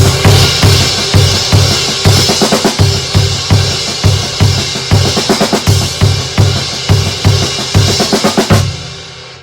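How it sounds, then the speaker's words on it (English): A drummer's solo phrase built on a sixteenth-note triplet figure, grouped in sixes, played as dense, loud, rapid hits over a repeating low drum pulse, ending abruptly. "with a 16th note triplet figure, so 6 tuplets"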